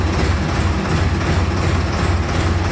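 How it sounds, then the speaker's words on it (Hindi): A tractor engine labors steadily in low gear, giving a loud, continuous, heavy rumble with dense low-end drone that holds without a break, with no talking. "देखो लो गियर में इतनी ताकत आ जाती है ट्रैक्टर में"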